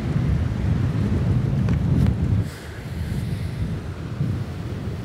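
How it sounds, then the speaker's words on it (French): Strong wind at about 100 km/h buffeting the microphone, a loud roaring rumble that eases midway into a lower steady rush, with no one talking. "Il y a 100 km/h de vent."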